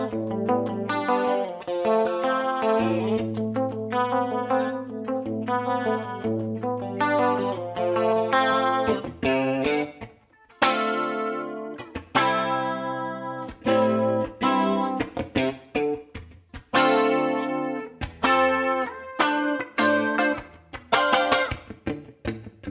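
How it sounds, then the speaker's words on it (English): Electric guitar plugged straight through an Arion SCH-1 chorus pedal into a console preamp emulation, a dry, clean 80s-style tone with shimmering chorus, playing rhythmic chords and funky muted stabs, loud and alone. "It's basically my guitar plugged directly into the pedal into my UAD Apollo, emulating a console preamp."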